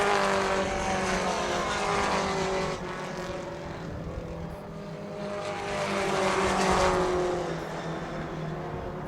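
Four-cylinder Allison Legacy race cars roar around a short track at Brackett's Market, a dense, continuous engine drone that swells and fades as the pack passes, loud and steady throughout.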